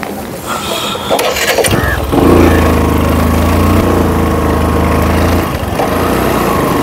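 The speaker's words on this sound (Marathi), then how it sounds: "फ्रेंड्स, मी आज निघालो आहे बाईक रायडिंगला।" A motorcycle engine close by catches after some clatter and settles into a loud, steady running drone that continues for several seconds before dipping briefly.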